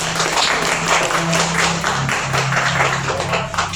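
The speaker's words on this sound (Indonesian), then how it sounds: "Tepuk tangan dong" An audience claps at a book launch and discussion event, a dense, steady patter that fills the whole stretch at close range, with a low tonal hum beneath it.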